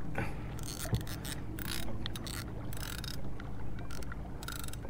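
A fishing reel's drag is loosened on a boat at the Savannah jetties, giving bursts of fast ratcheting clicks over a steady engine and water rumble, with no talking.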